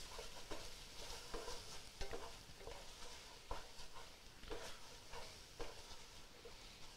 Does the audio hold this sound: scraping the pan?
yes